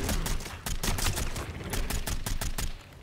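Rapid gunfire in the shooter game NETHER, bursts of sharp shots crackling in quick irregular succession, loud and close, with brief gaps between volleys and no talking.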